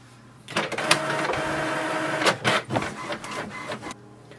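HP Envy 6020 inkjet printer printing its welcome sheet, a close mechanical whir of feeding and carriage motion lasting several seconds, with clicks and shifts in pitch near the end and no talking.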